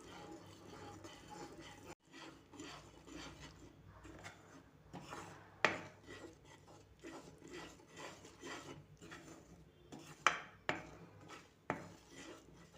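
Roasted gram flour is stirred steadily in a pan for North Karnataka kardantu, giving continuous scraping and rubbing with frequent sharp clinks of the spoon against metal, close and moderately quiet.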